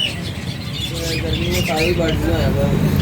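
Pet bird at a bird market squawking loudly and repeatedly, close by, with raspy calls rising over a busy crowd murmur.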